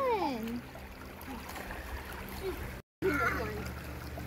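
Water runs steadily through a small creek, a soft, constant outdoor wash that continues beneath someone talking nearby, with one brief dropout partway through.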